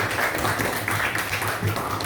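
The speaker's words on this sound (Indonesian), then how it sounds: "terima kasih tepuk tangan buat kalian" A group of listeners in a class session gives steady, moderately faint applause, a continuous patter of clapping with possible murmuring underneath.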